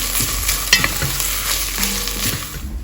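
Meat, onions and tomato paste fry steadily in a pot, with a continuous sizzle broken by scraping stirs and a few clinks of the spoon against the metal.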